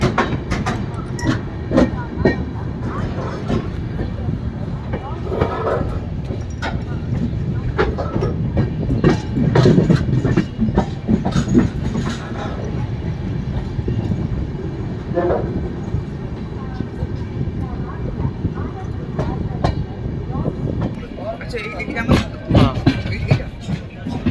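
Darjeeling Mail sleeper-class train running from NJP toward Sealdah, a steady rumble of carriage noise with rhythmic clatter of wheels over rail joints, heard from inside the coach, continuous throughout with occasional knocks and faint background voices.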